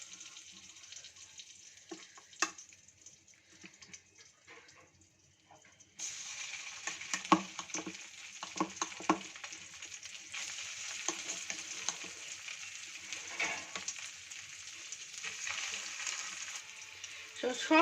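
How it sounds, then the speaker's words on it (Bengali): Chicken pieces hit melted butter in a pan, the soft early crackle jumping to a loud, steady frying hiss that continues with occasional stirring clatter, close up and without talk. "বাটারটা কিন্তু মেল্ট হয়ে গেছে, এবার দিয়ে দিচ্ছি চিকেনের পিসগুলো।"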